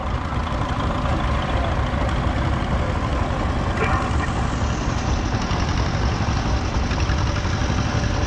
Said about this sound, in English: Now what's unique about this tractor is you've got to start it on gas, and then once it's running on gas you can switch it over to diesel.